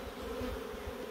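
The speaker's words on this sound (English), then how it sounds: "it's absolutely jam-packed full of bees, this one" Honeybees buzz in a hive packed full of bees, a dense, steady, close drone with no break.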